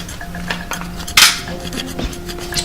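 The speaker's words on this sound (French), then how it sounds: "Et on vient faire une coupe au cutter." A utility knife cuts into a plastic sheath on a cutting board, giving light scrapes and clicks with one sharper, louder snap near the middle, close and alone without talk.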